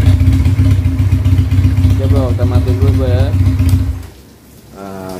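A Benelli Patagonian Eagle 250 single-cylinder motorcycle engine idles with a steady, loud, throbbing low hum up close. Someone talks over it before the engine note drops and briefly fades near the end.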